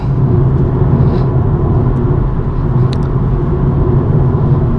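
BMW M135i driven on a road in northern Scotland, heard from inside the cabin: a loud, steady low engine and road rumble that holds even throughout, with no talking.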